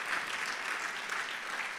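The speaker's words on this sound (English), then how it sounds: "One more applause." An audience at a live three-minute thesis competition final applauds a first-prize award with dense, steady clapping throughout the short stretch.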